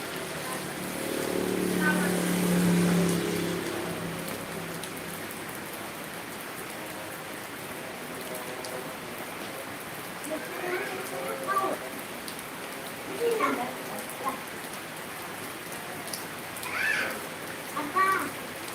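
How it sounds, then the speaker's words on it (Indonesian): Continuous soft rain patters on a surface, with a brief swell early on and quiet voices talking intermittently later. "Hujan"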